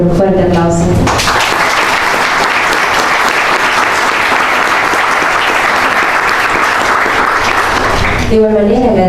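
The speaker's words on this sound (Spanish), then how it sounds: "felicitamos al autor por este gran proyecto con un fuerte aplauso" Loud, dense audience applause for the author at a book launch of the anthropology book 'Mirar hacia adentro', held at the Cátedra Permanente de Antropología. It runs steadily for about seven seconds, with brief speech just before and after.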